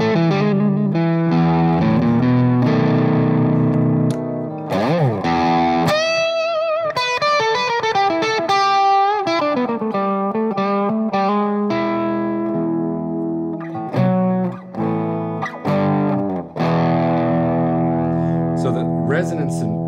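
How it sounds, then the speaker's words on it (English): A semi-hollowbody electric guitar played through an overdriven Orange Tiny Terror amp, with loud driven chords, bends and melodic lead lines up close, no talking. "put it in like the orange Tiny Terror, and put on a little drive so you can hear these pickups deliver"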